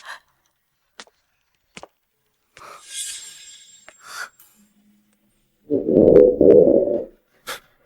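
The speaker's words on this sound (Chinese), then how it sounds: "曾祖母的肚子叫的比你的呼噜声还响亮" An elderly woman's stomach growls loudly in a period drama scene: two close, rumbling bursts near the end, following scattered short clicks and faint sounds in near silence.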